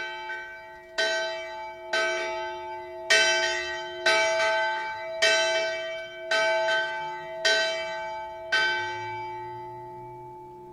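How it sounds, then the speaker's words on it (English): A large bell tolls eight times at a slow, even pace during a peace memorial ceremony in Nagasaki, each strike ringing out and decaying into a lingering hum. "let us now commence the bell ringing ceremony"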